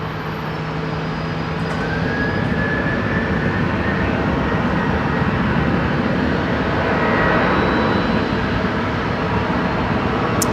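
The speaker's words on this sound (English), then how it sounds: "Next aircraft to depart's going to be a Qantas 73 here" Qantas Boeing 737 departing Brisbane Airport at night, a loud steady jet roar that holds and swells slightly over several seconds, with no voices.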